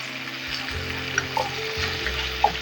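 Leafy greens added portion by portion to a hot frying pan and stirred, a continuous loud sizzle with occasional scraping clinks and a low steady hum underneath.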